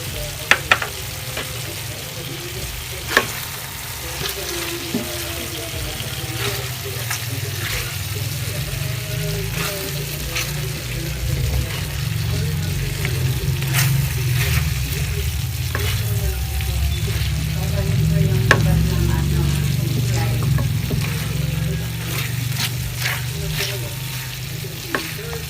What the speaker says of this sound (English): Now I will add the fried potatoes and carrots.